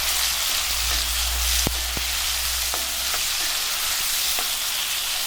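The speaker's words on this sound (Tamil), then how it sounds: "நீல வாக்கில் கட் பண்ணி இதை நல்லா வதக்கி விட்டுடலாம்." Lengthwise-cut tomatoes sauté in a pan for a vegetable curry with bottle gourd and beans, giving a loud, continuous frying sizzle and several sharp spoon clinks against the pan.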